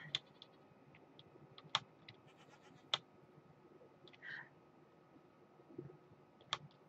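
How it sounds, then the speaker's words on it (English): Goats in the Minecraft Mo Creatures mod bleat faintly now and then amid sharp keyboard clicks and mouse taps, the game sounds quiet and distant under the typing. "More goats."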